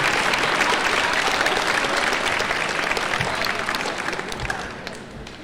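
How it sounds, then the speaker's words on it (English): A school audience at a Veterans Day ceremony in a high school gives a dense, sustained round of applause for veterans, steady and full before gradually thinning out toward the end. "If you would, please give them all a round of applause."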